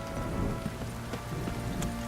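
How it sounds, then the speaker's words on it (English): Heavy rain pours in The Witcher 3, a dense steady patter of drops on surfaces with a few sharper taps, short and fairly soft, with no speech. "This downpour's a bastard,"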